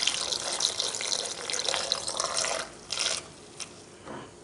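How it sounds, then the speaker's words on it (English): Liquid brine poured back into jars of homemade pickled sausage, a steady splashing trickle that runs for a few seconds and then breaks into shorter pours and drips, close and fairly quiet, with no voices. "We're going to try to take and fill the jars back up."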